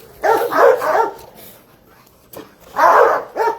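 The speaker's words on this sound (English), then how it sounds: "Over there barking for no reason." A dog barks nearby in a few loud, separate bursts with short pauses between them, with no other sound.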